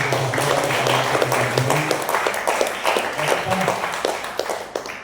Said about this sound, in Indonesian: Mari Bapak Ibu kita beri aplaus, tepuk tangan